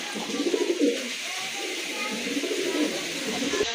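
Several large pigeons at a pigeon seller's coo in low, throaty murmurs that overlap steadily throughout, close and fairly loud.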